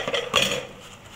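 Dishes being washed: a brief clatter of cutlery and plates knocking together close by, a couple of bright clinks that fade out quickly, with no voices.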